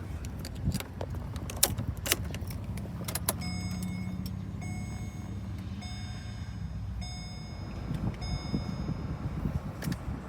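Car keys jangle and clink briefly near the start, followed by repeated electronic beeping tones inside a 2010 Holden VE Calais V Redline V8.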